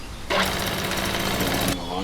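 A chainsaw in Junkyard Simulator roars to life and runs for about a second and a half with a buzzing, rattling whine, then cuts off abruptly.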